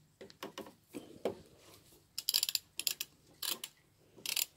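A socket wrench with a 19 mm socket ratchets on a Yamaha Virago 125 motorcycle, giving sparse, close clicking bursts and short runs of pawl ticks separated by brief pauses, with no voices.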